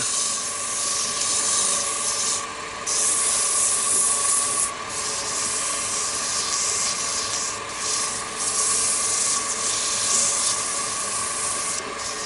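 Sandpaper is pressed against a wooden chess pawn spinning on a lathe, producing a loud, continuous close-up rasping hiss with a faint steady motor hum beneath and brief dips as the paper shifts.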